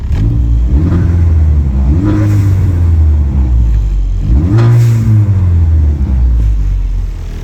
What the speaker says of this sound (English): It's got a Turbo Smart blow-off valve on it.